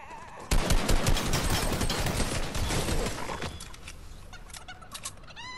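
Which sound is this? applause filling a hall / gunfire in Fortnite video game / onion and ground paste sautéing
gunfire in Fortnite video game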